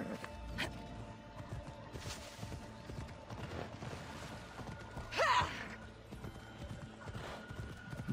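A horse's hoofbeats clop steadily through a busy soundscape in the video game Assassin's Creed Odyssey, with a brief whinny or snort near the middle.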